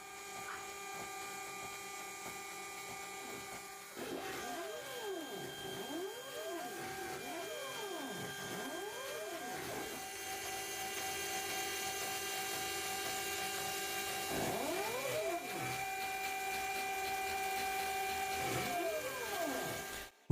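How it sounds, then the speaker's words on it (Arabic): CNC machine cutting bicycle frame parts, the spindle's pitched whine rising and falling in repeated sweeping arcs over a steady mechanical hum, continuous and moderately loud for about twenty seconds. "جه وقت إني أقطع كل القطع بماكينة CNC"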